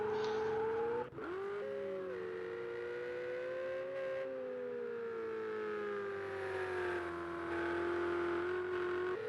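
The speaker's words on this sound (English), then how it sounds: "We're getting a few laggy burnouts from Gallon." A Ferrari 488 Challenge race car doing burnouts at Sonoma Raceway in a racing game, a steady, high-revving engine whine with a sharp drop and recovery early on, then sustained revs that rise and fall slightly throughout.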